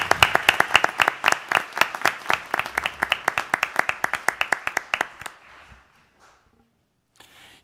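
Around a dozen people at a tourism commission meeting give a short round of applause after a staff presentation, sharp separate claps at a steady pace that soon thin out and stop.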